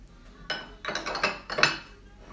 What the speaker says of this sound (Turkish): Ve bunları iyice karıştırıyorum.